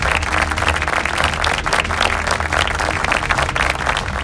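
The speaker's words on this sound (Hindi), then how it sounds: "जोरदार तालियों से स्वागत कीजिए" An audience at a National Family Bible Quiz semi-final claps steadily in loud, sustained applause welcoming a quiz team onto the stage, with no talk over it.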